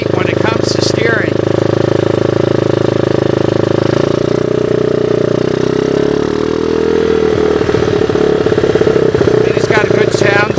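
A Honda 185S ATC three-wheeler with upgraded suspension runs close by, its engine thrumming steadily at a low idle with a slight rise in pitch late on, while a person talks over it.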